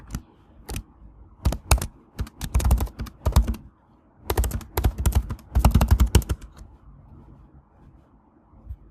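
A computer keyboard is typed on in irregular bursts of crisp, close clicks separated by short pauses, with no voices, as a chat message is entered during an AI agents workshop.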